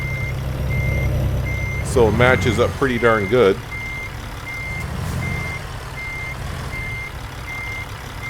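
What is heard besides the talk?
truck reversing beeps while backing up, American Truck Simulator video game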